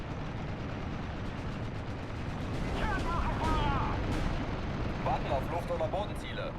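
Bombing in Steel Division: Normandy 44, a WWII Normandy battle game: a constant rumbling barrage of deep explosions and artillery thuds, growing heavier midway, with scattered gunfire crackling over it.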